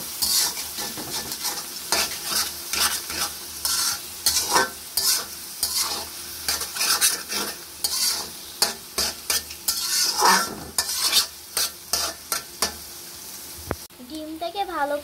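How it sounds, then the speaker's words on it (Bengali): An egg fries and is stirred in a pan for vegetable noodles, with rapid scraping strokes of a utensil over a steady close sizzle and a few clinks of metal near the end. "ডিমটাকে ভালো করে ভেজে নিয়েছি।"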